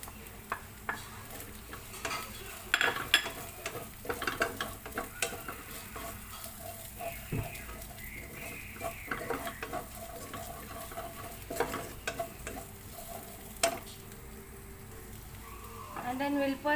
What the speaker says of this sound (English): And now we can put our ginger.